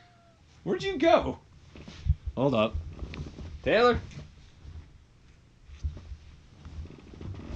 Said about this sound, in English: You guys might hear a couple meowing for a bit.